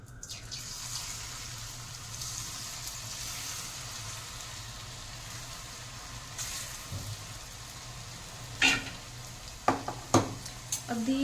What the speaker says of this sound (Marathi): आपण याच्यात टाकून घेणार आहोत साबुदाण्याची शेव आणि अगदी मंद गॅसवर आपल्याला हे तळून घ्यायचं आहे